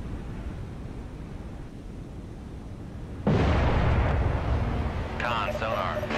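A vertical launch system missile fires from an Arleigh Burke class destroyer in Cold Waters: a sudden loud roaring blast cuts in over a low ambient rumble and sustains a heavy whoosh, with a voice heard faintly.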